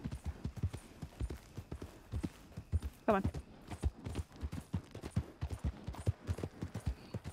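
Horse hooves clip-clop steadily in Red Dead Redemption 2, a regular galloping rhythm running through the whole stretch with someone talking over it and a brief whinny partway in.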